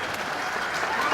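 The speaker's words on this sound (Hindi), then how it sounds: "अब ताली बजाओ।" A brief burst of applause, many hands clapping together in a dense, steady patter.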